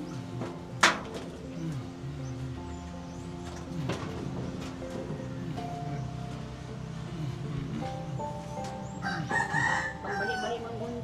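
A rooster crows near the start, followed by more fowl calls and clucking in the background, with occasional quiet voices nearby.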